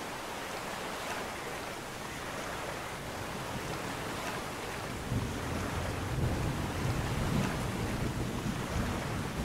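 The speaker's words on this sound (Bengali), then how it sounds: "মাঝ নদীতে আসার পর হঠাৎ করে ঝড় বৃষ্টির দাপট বাড়ে, নদীর জল উত্তাল হয়ে ওঠে" Heavy rain and storm wind churn a river into rough waves, a dense continuous roar of downpour and surging water that swells louder in the second half, with no voices.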